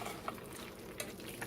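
A spoon stirs beef mac and cheese in a pot with a soft scraping and faint bubbling sizzle, quiet and brief.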